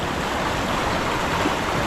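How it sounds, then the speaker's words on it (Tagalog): Swollen river rushing over an old dam after heavy rain, a dense, steady, loud roar of churning water, constant and close with no breaks. "Nag-aalboruto na yung dam."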